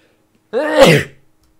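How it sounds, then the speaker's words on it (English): A single sharp human sneeze, close and loud, with a brief intake rising into the burst and then silence, during a Minecraft Feed The Beast multiplayer session. "Sneezy, sneezy, sneeze, sneeze."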